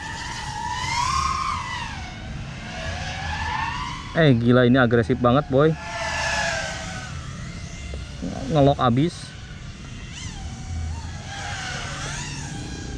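Small FPV drone with HQProp Ethix P3 Peanut Butter & Jelly propellers, motors whining and sweeping up and down in pitch, with two sharp loud bursts of aggressive throttle, while someone talks excitedly over it.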